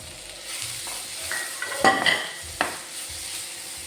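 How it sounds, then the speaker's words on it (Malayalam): Chopped large ripe plantain sautéed in a pan for a wheat-flour snack: a soft sizzle with a spatula stirring and scraping, a few sharp clinks of utensil on metal, close by with no talking. "ഇനി നമുക്കതിലേക്ക് ഒരു വലിയ ഏത്തപ്പഴം ചെറുതായിട്ട് കട്ട് ചെയ്തതാണ് അതും കൂടെ ചേർത്ത് കൊടുത്ത് ഒന്ന് വഴറ്റിയെടുക്കാം"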